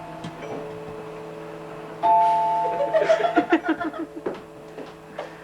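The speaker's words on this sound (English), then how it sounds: "It's a sick-sounding doorbell" A two-tone electronic doorbell chime rings out, followed by a rapid descending run of bright, bouncing chime notes that fade away.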